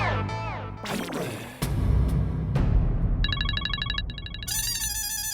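A telephone rings in a sitcom household scene, an electronic ringtone with repeated bursts that grows louder and clearer toward the end over background scuffling and clatter.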